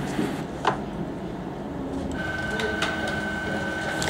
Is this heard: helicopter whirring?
no